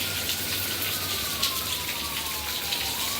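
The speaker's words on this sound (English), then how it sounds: "Listen to the sounds of the rain and apparently the city." Steady rain falls outdoors, a dense even hiss, while a distant siren wails and slowly falls in pitch beneath it amid faint city rumble.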